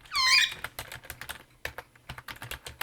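A brief high squeak, then quick, uneven clicking of keys on a computer keyboard, close by and fairly quiet.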